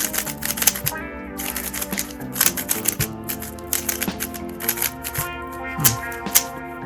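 A new speed cube is turned rapidly, producing dense, clacky plastic clicks and rattles in quick bursts, loud and close, with some tonal music running underneath.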